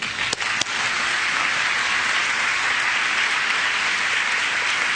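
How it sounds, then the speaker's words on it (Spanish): A church congregation breaks into sustained applause during a sermon, a dense, even wash of many hands clapping that fills the whole stretch, with a couple of sharper claps near the start. "Démosle un aplauso."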